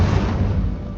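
The Incendio fire spell igniting dry vines in Hogwarts Legacy, a dense, loud whooshing roar of flame that holds steady across a brief second.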